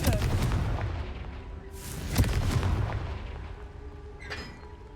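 Confringo fire spell exploding in the game Hogwarts Legacy, a booming blast with rumbling debris followed by a second heavy crash and a fading tail.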